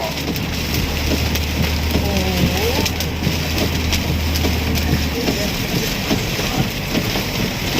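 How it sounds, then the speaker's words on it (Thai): Heavy rain pours down on a vehicle with wipers running at high speed, a steady broadband wash that stays loud throughout, with a low engine drone beneath and a voice speaking over it. "หนักหนักหนักตอนนี้หนักเจอฝนหนักแล้ว"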